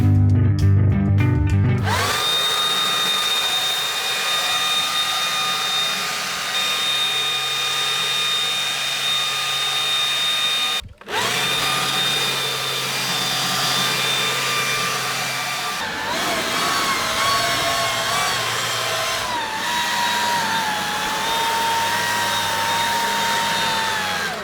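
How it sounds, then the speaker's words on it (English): A Husqvarna BA101 electric leaf blower attachment on a Combi 325iLK power unit runs with a loud, steady whining drone, cutting out for a split second midway and then shifting pitch as the throttle changes. "BA101 leaf blower. So this is a heavier thing."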